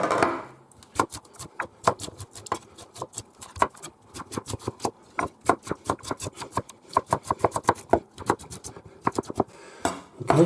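A knife roughly chops parsley on a board in a kitchen, making quick, sharp, irregular taps that come in fast bursts with brief pauses and sound close.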